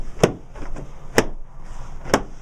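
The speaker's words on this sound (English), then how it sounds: "you'll hear the track snap in" Wall fabric track snapping into its back locking channel during a Wallmate panel install, three sharp, close clicks spaced about a second apart over a low background hum.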